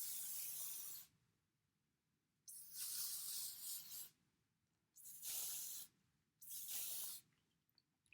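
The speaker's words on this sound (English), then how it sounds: "Just spray it from a distance." Three long hissing bursts of an aerosol hair spray, each about a second or more, separated by quiet pauses.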